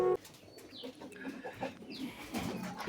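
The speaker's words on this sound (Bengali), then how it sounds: "আপনারা দেখতে পাচ্ছেন আমার বোম্বাই কবুতর বাচ্চা নিয়ে বসে আছে।" A Bombay pigeon sits with its chick, giving soft, low cooing and a few brief chirping calls, faint and close, in a quiet indoor setting.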